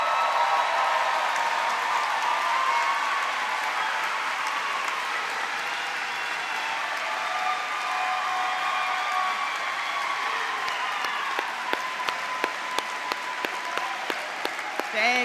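A sustained round of applause from a large crowd at a university graduate commencement ceremony, steady and even throughout, with a few sharper individual claps standing out toward the end.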